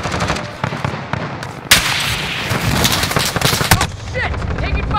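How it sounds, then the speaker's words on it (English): Loud, rapid bursts of automatic gunfire from a video game, dense and near, with scattered single shots and a sharp blast partway through, layered with game effects and a faint voice. "Taking fire over here."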